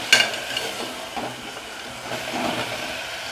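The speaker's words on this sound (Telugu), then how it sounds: "ఇది వేసిన తర్వాత ఒకసారి బాగా మిక్స్ చేసుకోవాలి" Egg biryani ingredients are stirred in a pressure cooker with soft scraping strokes and a faint sizzle, a brief clatter at the start, then quiet, uneven mixing sounds.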